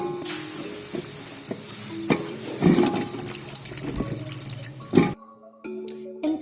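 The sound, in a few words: carrots being dipped and washed in water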